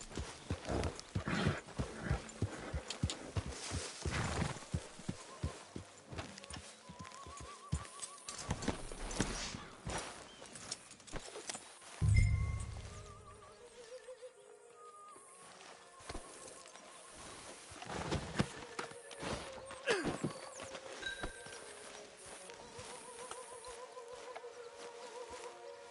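Horse hooves clip-clop at a steady trot in Red Dead Redemption 2, close and continuous, with a brief snort and faint ambient game sounds around them.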